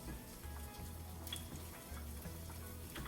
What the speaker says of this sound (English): We are now going to stir in, this is half a cup of alfredo sauce.